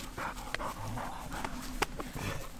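A hunting dog panting out in the field on a deer hunt, quick rhythmic breathy pants close by, with a few soft clicks and rustles between breaths.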